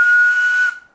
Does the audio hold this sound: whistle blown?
yes